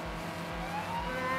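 Racing car engine in Forza Horizon 3, a steady, loud mid-pitched drone that rises slightly in pitch, with no talk over it.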